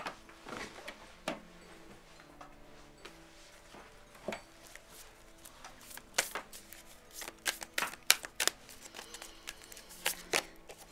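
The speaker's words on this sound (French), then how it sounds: "Hop là, les cartes tombent." Tarot-style cards shuffled by hand in a quiet room, a steady run of soft riffling flicks and slaps that thicken into a burst of cards dropping and clattering near the end, with no voices.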